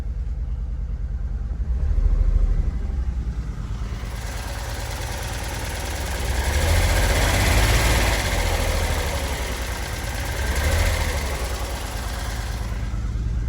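A restored turbo Datsun engine idles steadily up close, its low rumble swelling and easing in a few slow surges, with no one speaking.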